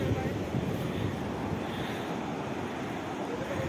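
Surf rolling onto Tharkali Beach in Sindhudurg, a steady, dense roar of waves mixed with wind buffeting the microphone, continuous and fairly loud throughout with no clear breaks.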